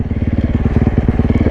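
Supermoto motorcycle engine running in fifth gear, a loud close pulsing exhaust drone with a steady rapid rhythmic beat throughout.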